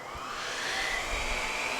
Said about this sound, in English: we're going to turn the vacuum right back on